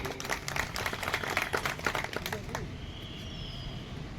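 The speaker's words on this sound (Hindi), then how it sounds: "इनके लिए जोरदार तालियां" Audience applause at an outdoor drivers' association celebration in Chamba, a fairly faint, crackly patter of many hands for about two and a half seconds, then dying away into open-air background noise.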